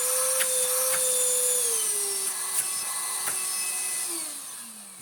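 A Miele Compact C2 Extreme Powerline vacuum cleaner, converted to cordless 24-volt power, runs steadily with a loud motor whine that dips in pitch a few times, with no voices.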